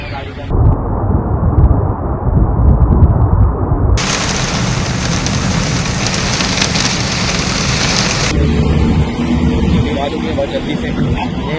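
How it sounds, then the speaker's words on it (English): Heavy rain pours down hard during an intense storm with strong winds and flooding in Dubai, a loud dense roar that shifts in tone partway through, with deep rumbling like thunder underneath. "Marked by heavy rainfall and intense winds"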